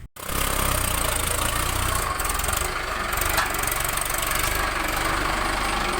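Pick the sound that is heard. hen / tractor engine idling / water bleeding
tractor engine idling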